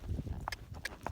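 Hooves of a gaited horse strike the ground in a quick, even clip-clop while it walks, several close hoofbeats over low steady rumble.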